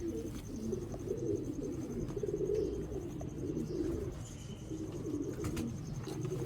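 Mian Nazir bloodline pigeons kept on a rooftop in Sialkot produce a thick, continuous chorus of nearby coos, soft rolling calls overlapping throughout with no voices.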